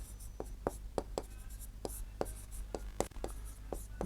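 Marker or chalk strokes on a classroom board while writing geometry notes, a string of short scratchy taps and squeaks spaced irregularly over several seconds, fairly close, with faint room tone and no clear talk.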